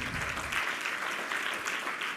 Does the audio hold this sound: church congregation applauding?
yes